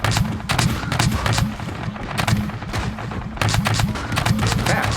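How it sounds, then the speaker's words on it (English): Turret guns in Scrap Mechanic firing in rapid, rhythmic bursts, loud and continuous at close range with no talking. "See the guns in action."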